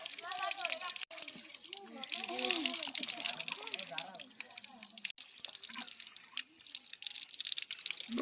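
Water trickles and splashes at a drinking-water spot in a mountain forest, a close, continuous liquid patter running under nearly constant talking voices, including a child's.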